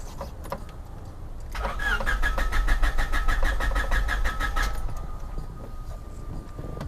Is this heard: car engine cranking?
yes